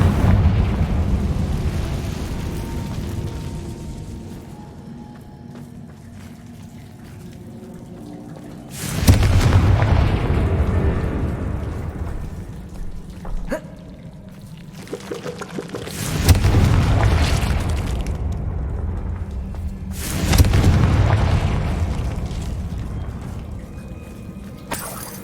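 Confringo spell blasts in Hogwarts Legacy: four loud, sharp explosions roughly spaced several seconds apart, each a sudden burst with a rumbling, fading tail over a low ambient background, with faint scattered clatter between them.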